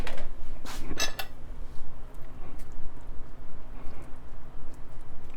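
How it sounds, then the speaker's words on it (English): Diced onions are stirred into liver gravy in a pot, with several metal utensil clinks against the pot early on, then a soft, uneven scraping and mixing, no talk. "So I'm going to add the onions to the mixture."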